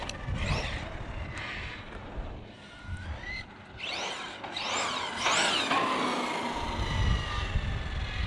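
Tekno MT-410 RC monster truck on a test run after repairs, its electric motor whining up and down in repeated rising and falling sweeps over rough scrabbling tire and ground noise, fairly close and continuous.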